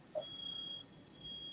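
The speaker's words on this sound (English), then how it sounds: "The smoke alarm went off." A smoke alarm chirping in a building where someone is cooking upstairs, a thin high-pitched tone sounding in two steady stretches with a short gap between, faint and distant over quiet room noise.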